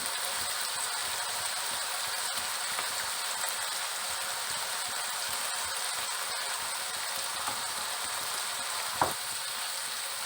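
Ginger-garlic paste, tomato and spices sautéing in a pan for masoor dal keema biryani, giving a steady, close sizzle that fills the whole stretch, with one sharp scrape of a utensil near the end.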